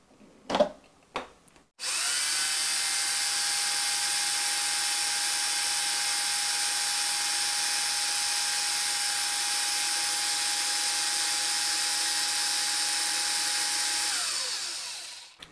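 Deko DKRH20B50 rotary hammer drill running in non-impact mode: a couple of short bursts, then a sustained high-pitched motor whine at steady speed for about thirteen seconds before spinning down.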